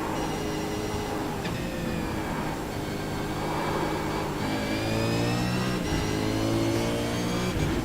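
A race car engine accelerating on track, with harmonic tones climbing steadily as the throttle opens, loud and close, running continuously without any talk.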